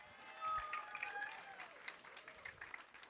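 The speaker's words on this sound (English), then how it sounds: "Little round of applause." A small event audience gives a modest round of applause for a photographer, soft scattered clapping under some murmuring voices, peaking early and tapering off.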